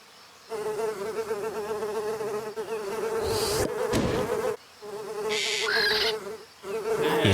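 A housefly buzzes close by, its steady drone rising and falling in pitch as it circles near and then away, with short breaks between passes and no voices.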